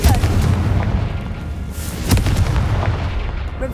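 A Confringo fire spell explodes in Hogwarts Legacy with a few heavy booming bursts, close and loud against a steady game-action background.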